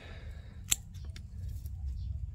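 A single sharp snip of pruning scissors cutting a juniper branch, near and brief, followed by faint rustling of foliage and light handling noises over a low background rumble.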